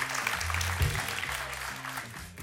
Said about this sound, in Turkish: Gediz Hanım'ı alkışlıyoruz.